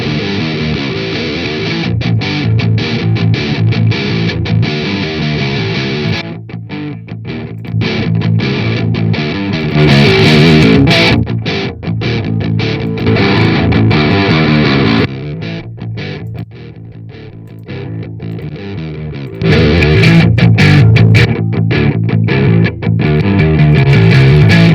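Heavily distorted electric guitar through a Linux amp simulator plays a dense, sustained metal riff with a thick, saturated tone, loud and steady throughout with brief dips between phrases.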